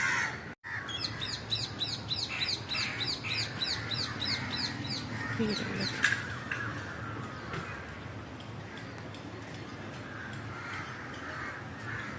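Birds in a natural outdoor setting chirp in quick repeated bursts, faint and somewhat distant, over a steady background hiss, with a brief sharp knock near the start.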